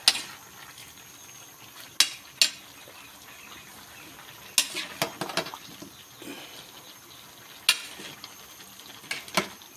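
A spoon stirring Ilocano pakbet with dalag fish in a metal pot, with scattered sharp scrapes and clinks against the pot over a faint, steady background and no talk.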